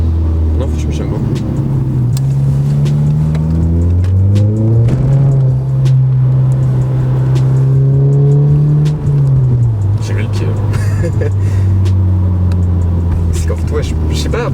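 Car engine rumbling and revving steadily through a drive, its pitch climbing and falling as the vehicle accelerates and shifts, loud and continuous throughout.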